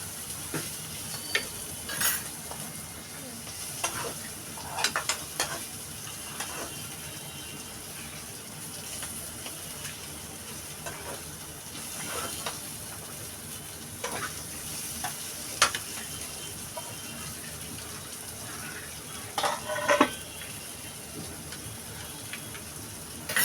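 Hilsa fish pieces fry in a pan, a soft, continuous sizzle broken by intermittent stirring scrapes and clatters of a utensil, fairly quiet and close.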